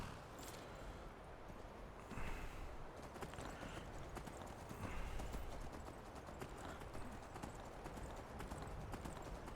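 Horse hooves clip-clop steadily in the video game Skyrim, a continuous rhythmic trotting patter heard clearly, moderately close, with faint ambient game sound beneath.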